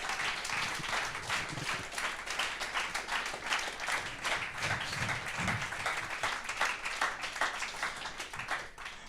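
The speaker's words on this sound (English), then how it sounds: "Cool applause" Applause from an audience after a final pitch at a Garage48 circular economy hackathon, a steady patter of many hands clapping, moderately distant and even throughout.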